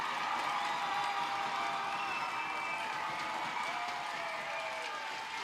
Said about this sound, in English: And this crowd is going wild.